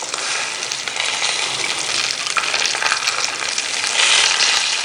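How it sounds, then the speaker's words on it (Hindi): Raisins roasting in desi ghee in a pan give a steady, close, bright sizzle with a soft bubbling, frying texture that holds evenly throughout with no voices. "इसीलिए इसको भून रहे हैं ताकि अगर किशमिश में थोड़ा बहुत भी पानी है वो भी ख़त्म हो जाए।"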